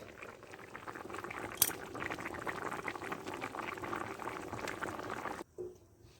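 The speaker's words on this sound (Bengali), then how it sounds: "তরকারি আমার ফুটে উঠেছে, দেখুন তরকারি ফুটে উঠেছে।" A pan of vegetable curry with potato, stem greens and green banana boils at a steady, dense bubble, with a sharp clink near the start. The bubbling stops suddenly just before the end.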